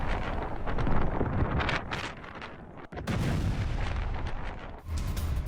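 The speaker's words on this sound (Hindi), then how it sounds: "एक के बाद एक 3 धमाके हुए" Three air-strike explosions in Lebanon: heavy rumbling blasts and booming roar with wind buffeting the microphone, a sharp break midway, then another sustained thunderous rumble.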